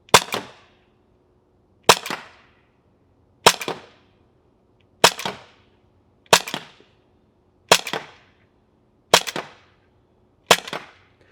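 T4E Glock G17 Gen 5 .43 caliber paintball pistol firing eight sharp, crisp single shots at a slow, fairly even pace of about one every one and a half seconds, each followed by silence.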